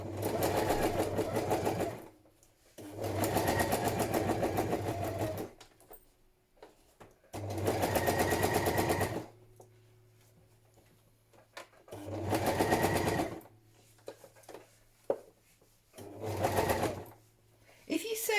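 A sewing machine stitches a padded patchwork journal cover thickened with wadding, running in several loud close bursts of rapid whirring separated by short pauses as the work is turned.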